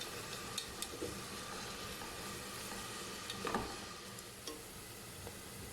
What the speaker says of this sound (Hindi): प्याज को मैं करूँगी फ्राई, इससे गोल्डन ब्राउन होने तक फ्राई करें।